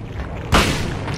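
A gunshot at a boss in the Silent Hill video game, a single loud, sharp boom halfway through that rings out with a short decaying tail.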